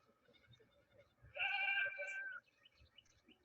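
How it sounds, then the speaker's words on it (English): Baby goats on a campus eco-corridor give a single loud, quavering bleat lasting about a second, close by, over a quiet outdoor background with faint bird-like chirps. "a wonderful surprise when we saw these baby goats in action on campus"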